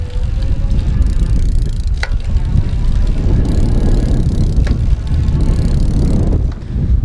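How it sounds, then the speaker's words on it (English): A rider pedals a Juiced CrossCurrent Step-Thru e-bike outdoors, with a low, steady rolling rumble and wind buffeting the microphone throughout, plus a few faint clicks. "I'm gonna hop on and pedal around"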